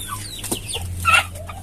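A few short clucks from chickens nearby, scattered over a low steady hum.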